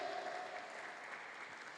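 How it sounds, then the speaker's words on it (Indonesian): A church congregation claps together at a worship service, a steady dense wash of applause that holds evenly from start to finish at moderate, slightly distant volume. "Semua tepuk tangan"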